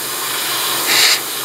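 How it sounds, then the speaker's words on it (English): An airbrush sprays paint through a stencil onto model parts, a quiet background hiss followed by one short, sharper burst of spray near the end. "The air here, I paint again."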